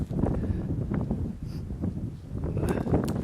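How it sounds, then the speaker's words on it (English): Strong wind buffets the microphone outdoors during a hog hunt, a steady low roar with gusty surges throughout, with brief faint rustles over it. "I told you it's so windy."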